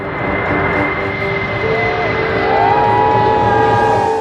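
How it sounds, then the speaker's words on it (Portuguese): Stratolaunch Model 351, a huge twin-fuselage transport aircraft, in flight with a steady, loud engine roar and a faint rising whine over it, no voices. "O Stratolaunch Model 351 é um avião de transporte estadunidense."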